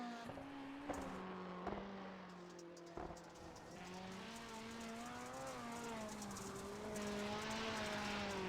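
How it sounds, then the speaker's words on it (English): Rallycross sim racing cars from a video game circle the Sonoma track, a steady engine whine rising and shifting in pitch as gears change, with a few sharp clicks and a continuous droning layer throughout. "This is one of the iDrive Sim cars working his way around."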